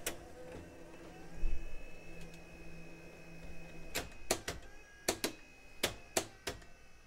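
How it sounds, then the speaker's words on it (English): A JVC U-Matic 3/4-inch video tape deck mechanism whirs softly, then clicks sharply several times in quick bursts as the tape loads, close-up with no talking. "There's a whole lot of clicking going on there, isn't there?"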